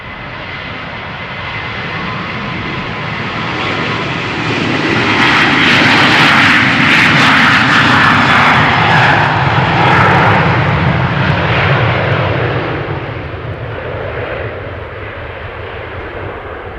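A Vueling Airbus Neo jet departs runway 36L at Amsterdam Schiphol Airport, its loud engine roar building to a peak midway and then slowly fading as it climbs away, with no talking.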